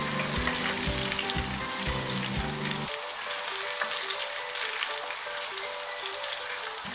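Green chilies frying in a pan for chana daal, a steady bright sizzle and crackle, with a rhythmic low musical backing that drops out partway while the frying continues alone.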